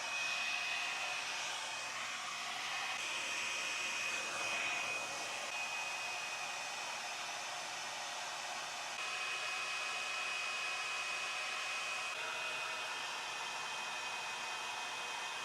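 A Knot Doctor hair dryer with a diffuser attachment running on the cold setting gives a steady, continuous airy whoosh with a faint high whine, lasting throughout without breaks.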